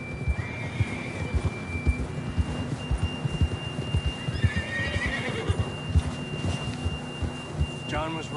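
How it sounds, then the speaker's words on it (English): A horse in a western video game neighs and whinnies over steady clip-clopping hooves, loud and close, with a bright whinny near the end and game ambience beneath. "John was riding that horse when we left Blackwater"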